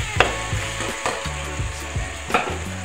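Soybean vadi pieces sautéed in masala with coriander powder and garam masala in a pan, giving a steady close sizzle with repeated scraping stirs and clinks of a spoon against the pan.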